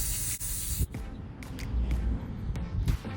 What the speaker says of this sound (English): I am just going to spray it on and let it dry